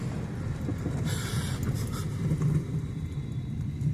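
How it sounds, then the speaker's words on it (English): A steady low rumble of a passing Norfolk Southern freight train fills the clip, continuous and fairly loud, with faint metallic rattles on top. "There's a Norfolk Southern coming through."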